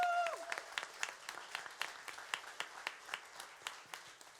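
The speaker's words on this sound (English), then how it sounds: "thank you very much for your coming, for your applause" Audience applause after a show band's tribute concert, scattered individual claps ringing out in a hall, thinning and fairly faint, with a brief sliding tone at the start.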